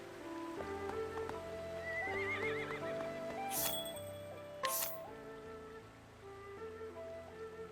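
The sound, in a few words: horse neighing in the video game Octopath Traveler 2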